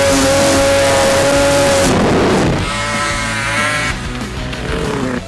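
A 1000cc X-Games race snowmobile engine roars loud and close, revving hard at first, dipping briefly, then holding a steady high-pitched drone with no talk.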